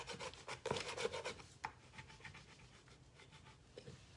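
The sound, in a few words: burnishing a rub-on transfer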